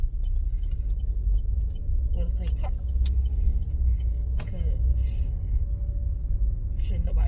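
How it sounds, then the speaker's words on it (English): Car driving on the road, heard from inside as a steady low rumble of engine and tyres with occasional small clicks and rattles, continuing throughout at moderate level. "I'm on my way back in my car"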